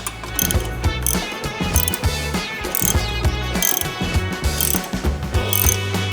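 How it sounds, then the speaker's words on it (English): A 1/2-inch wrench tightens a nut on the front fender bolt of a Harley-Davidson Fat Boy, giving repeated close ratcheting clicks in short uneven bursts, with no talk. "place a 1/2 inch wrench over the nut and tighten the 1/4-inch hex"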